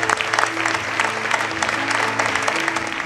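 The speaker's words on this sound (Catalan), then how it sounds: "Un fort aplaudiment, sí senyor." At the Vall Baixa 2009 awards ceremony, an audience applauds a third-prize-winning software company with steady, dense clapping, lively and sustained, over a low steady hum.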